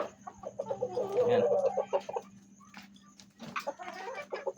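Chickens cluck and squawk close by at an 11 pm feeding, busy and overlapping, with a short spoken word and a steady hum underneath.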